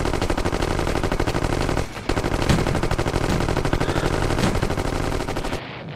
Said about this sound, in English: Why does he have a shotgun?